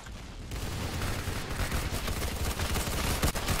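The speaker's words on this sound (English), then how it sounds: "What's this, a shotgun?" Gunfire in a Roblox video game, a dense, continuous rattle of rapid shots at moderate level lasting several seconds with no pauses.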